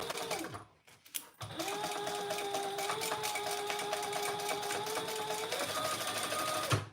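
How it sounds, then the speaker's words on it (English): A sewing machine stitching fabric panels together with a zipper facing, running at a steady fast pace after a brief start-stop, a close continuous mechanical whir with rapid needle ticking. "then we're gonna sew these together"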